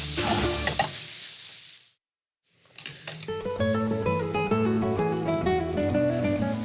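Sausage fries in a pan with a loud, crackling sizzle up close, cut off briefly before the hissing and popping of fat returns even stronger and keeps going.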